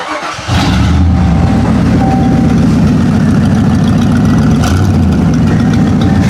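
After a brief crank, a car engine starts in freezing, snowy cold, then catches and settles straight into a loud, steady idle that runs on without a break.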